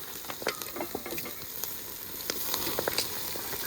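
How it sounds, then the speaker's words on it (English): A porterhouse steak sears low over the coals of a Weber Smoky Joe grill, a quiet, crackling sizzle with scattered pops and spits running continuously. "so I'm lowering it down for the sear now"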